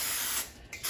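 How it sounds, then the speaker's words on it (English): Cooking spray hisses from an aerosol can onto a baking pan, a close, steady spray that dips briefly and then resumes near the end, with no talking. "now we're gonna add a little cooking spray to our pan that we're going to bake in"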